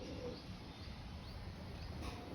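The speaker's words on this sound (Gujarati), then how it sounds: "આવી રે કબૂતર" Pigeon cooing outdoors on a breezy day: faint, low soft coos sit under a steady wash of wind and background noise, with no talking.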